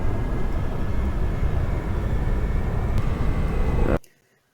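A Boeing 747, United Flight 811, shaking through a hard landing: a loud, steady broadband cabin roar and rumble that holds for about four seconds, then cuts off abruptly into near silence.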